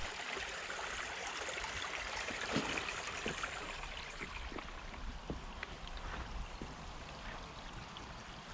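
A small woodland stream runs steadily where two streams meet in a clearing, a constant close babble with light trickles and splashes and no voices.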